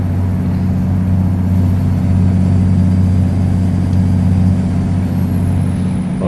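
Freightliner Coronado truck engine in American Truck Simulator, a steady loud low diesel drone with strong low harmonics holding evenly throughout, alone without talk.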